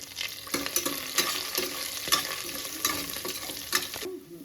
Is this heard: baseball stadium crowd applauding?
no